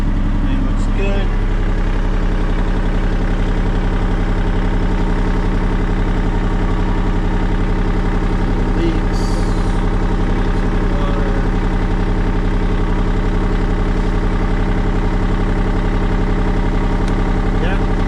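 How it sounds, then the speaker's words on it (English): A diesel engine with a freshly rebuilt Racor 500FG fuel filter and water separator idles steadily, a continuous close, loud low rumble that holds unchanged from start to finish with no other sounds. "All right, engine started."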